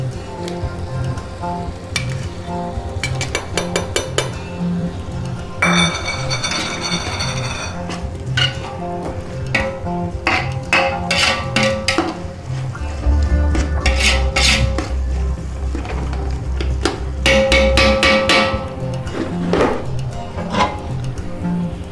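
A metal spoon stirs parboiled rice with salt in a pot, close and loud, with repeated clanks and scrapes against the pot over a steady background sizzle.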